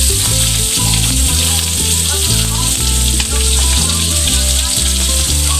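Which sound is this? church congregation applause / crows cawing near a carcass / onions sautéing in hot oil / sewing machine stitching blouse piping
onions sautéing in hot oil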